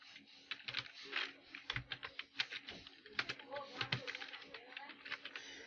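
Text is typed on a computer keyboard while writing HTML, a quick irregular patter of soft key clicks and occasional heavier strokes at close range, with no one speaking.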